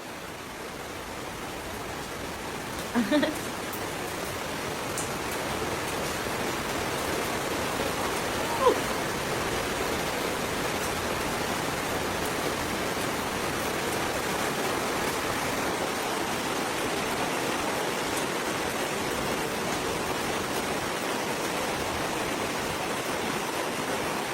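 Steady rain falls outdoors near a baby, a dense even hiss filling the whole span, with a couple of faint brief knocks and no voices.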